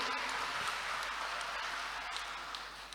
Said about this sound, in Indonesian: Jangan tepuk tangan dulu, karena masih banyak kelebihan dari beliau.